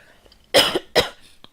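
Two sharp, close coughs in quick succession, loud and isolated against a quiet background.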